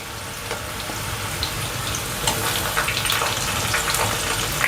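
Onion and curry leaves frying in a pan for Kolhapuri misal, a steady, close, loud sizzle with crackling that swells slightly as the cooking goes on.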